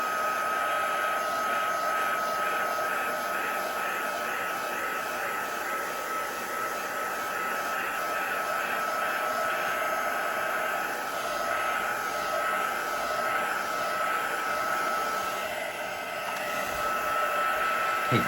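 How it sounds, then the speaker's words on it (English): A heat gun blowing hot air over a handmade stencilled, stamped greeting card, a continuous loud whooshing fan roar that runs steadily and close throughout with no pauses. "Just using my heat gun, obviously."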